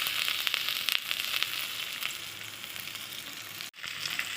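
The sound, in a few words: ginger paste and chopped tomato frying in pan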